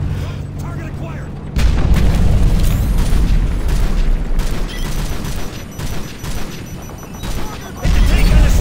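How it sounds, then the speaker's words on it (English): Heavy explosions and rapid cannon fire from A-10 gun runs in Call of Duty: Modern Warfare 3, loud booming bursts that swell over a continuous roar of battle, with a voice speaking over the noise. "The air corridor is clear for our A-10s to commence gun runs."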